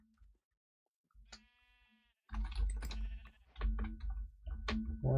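Sheep bleating in the Minecraft video game, a short harmonic bleat heard clearly at first, then louder footsteps, block and item sounds crowd in with further bleats scattered among them.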